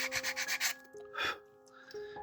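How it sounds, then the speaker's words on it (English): Quick, scratchy strokes of sanding rub a small plastic skirt part for a model grot tank, a rapid burst of back-and-forth passes followed by a couple of isolated rubs, near and alone over a faint steady hum. "what I have to do is just a little bit of sanding"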